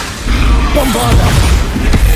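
Bombarda spell blast in the Hogwarts Legacy video game, a deep booming burst that rolls on through a loud, dense game mix, with talk mixed in.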